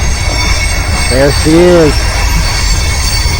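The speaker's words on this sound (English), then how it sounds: "sorry about the train noise once again" Passing train with wheels squealing on the rails: a brief, high, wavering screech rises over steady rumbling outdoor noise for about a second, while someone speaks briefly.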